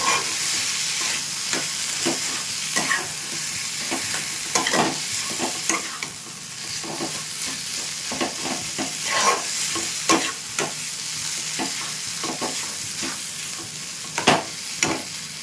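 Spiced potato filling with turmeric and cumin powder sizzles steadily in a pan for kochuri, broken by frequent scraping stirs of a spatula, close and continuous, with no voices.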